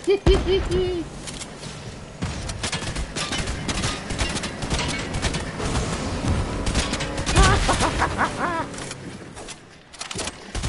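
Gunfire from Fortnite on PS4 rattles in repeated bursts amid in-game effects, while someone talks over the action throughout.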